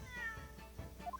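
A short, quiet cat meow from The Great Ace Attorney game, a couple of brief rising chirpy cries over faint background sound.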